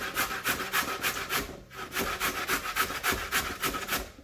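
Sweet potato rubs back and forth on a hand grater in steady, rhythmic rasping strokes, close and continuous, with no talk.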